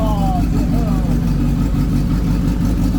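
A swapped electric race car with an electric water pump is started for the first time, giving a loud, steady, droning motor hum with brief rising whine sweeps near the start, and voices underneath.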